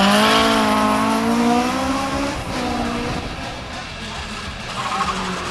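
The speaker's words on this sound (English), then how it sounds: "Alex Whitehead in his BMW was 4th in Super Modified 11" A BMW race car runs at speed during the Barbados hill climb, its engine note rising and then easing off as it passes, loud and close with steady broadband road noise throughout.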